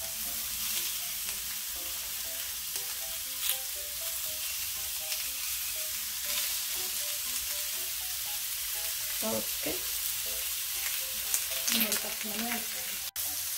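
Homemade hamburger patty sizzles on a grill with a steady, dense hiss and crackle throughout, a brief spoken word near the start and faint clicks and scraping sounds toward the end.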